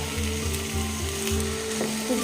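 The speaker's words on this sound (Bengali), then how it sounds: "এবার আমি দিয়ে দেবো চাল ডাল ধুয়ে রেখেছিলাম, আর এই ছোলার ডাল ভিজিয়ে সেদ্ধ করে নিয়েছিলাম, এগুলোকে দিয়ে দিচ্ছি" Washed rice and lentils with boiled chana dal dropped into frying spices for monsoon khichuri, a loud close sizzle with rhythmic low thumps of stirring and scraping in the pan.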